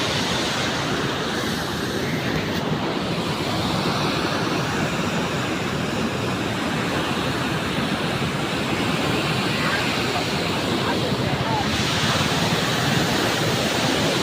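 Powerful water roars continuously at close range through the Kallanai dam, a thick even rush that never lets up.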